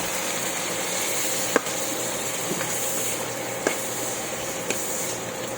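Onion and tomato sautéing in a pan for a mung bean stew give a steady, even sizzling hiss with a few soft clicks of a utensil against the pan, moderately close and without talk.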